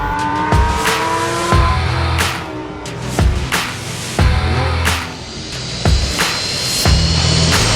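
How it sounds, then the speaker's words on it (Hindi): Three cartoon cars speed in from afar with a racing engine roar, punctuated by about seven sharp whooshing bursts and tire squeals roughly a second apart, loud and close. "अचानक दूर से 3 गाड़ियां तेज स्पीड से उनकी तरफ आती हुई दिखाई देती हैं।"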